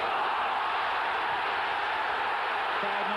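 A 1996 Sunderland versus Middlesbrough football stadium crowd gives off a broad, sustained roar of displeasure after a challenge, a dense continuous wash of distant voices with no single voice standing out.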